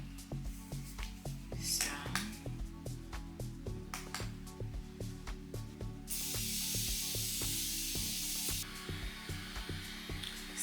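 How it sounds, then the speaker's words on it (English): Makeup setting spray misted onto a face in a steady hiss of a few seconds, followed by a second shorter spray, over quiet background music. "I'm gonna spray everything down with my Beautiffied setting spray."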